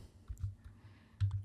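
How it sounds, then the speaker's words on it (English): Numbers being typed on a computer keyboard during spreadsheet data entry: a handful of faint, scattered key clicks with short pauses, then a quick cluster of taps near the end. "I'm going to type the numbers"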